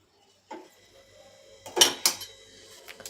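A spoon clinks and scrapes against a bowl in a few short bursts, mixing lemon juice into garlic chilli raita, close and fairly quiet against a still background.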